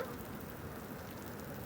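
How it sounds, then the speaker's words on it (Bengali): Rain falls steadily outdoors, a faint, even wash of broadband patter with no distinct drops or voices standing out. "আর দেখুন এই জীবনের প্রথমেই এরকম একটা বৃষ্টি হলো।"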